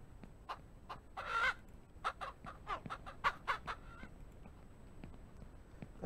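A chicken in Ranch Simulator clucks and squawks in a string of sharp, irregular calls, one drawn out, fairly faint with nothing else over it.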